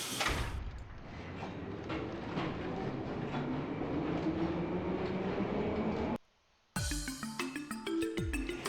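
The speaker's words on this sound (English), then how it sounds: "Platform 1, the train bound for the Republic is now departing." A train pulls away from a station platform in the video game Trails from Zero: a steady, loud rolling rumble with rhythmic clatter, a brief drop to near silence, then sharper clacking with bright, chime-like tones.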